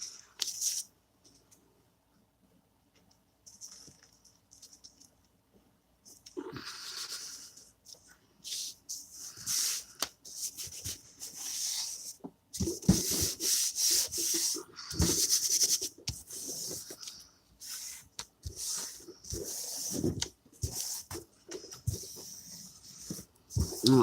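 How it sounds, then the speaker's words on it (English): Paper page in a handmade journal burnished by hand, giving soft intermittent rubbing and brushing strokes, faint and close, with quiet gaps and no talk. "I'm going to burnish it really good with my hand"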